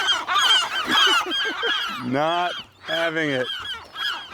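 Nesting seabirds on Anacapa Island call harshly and repeatedly at close range while swooping to attack, with loud honking, goose-like cries in overlapping bursts and someone speaking briefly between them.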